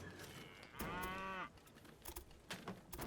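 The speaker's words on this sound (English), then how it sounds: "That cow sounds like he came straight out of Stronghold" A cow moos once in the Railway Empire video game. The low moo lasts about half a second. Soft clicks and taps come before and after it.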